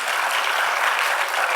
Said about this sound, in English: Round of applause for Swati.